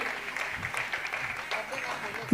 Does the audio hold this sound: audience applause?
yes